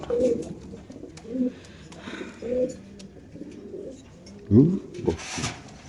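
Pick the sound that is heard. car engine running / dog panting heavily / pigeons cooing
pigeons cooing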